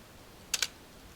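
Two quick keystrokes tap on a computer keyboard while typing a command and pressing Enter, sharp and close in an otherwise quiet room.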